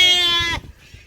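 A single goat gives a loud, short bleat close by at milking time in a village livestock yard, then quiet follows.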